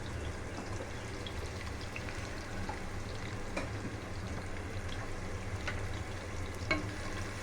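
Onions frying in hot oil in a pan for a chicken curry with bottle gourd and papaya, a steady, dense sizzle throughout with occasional faint pops and light stirring.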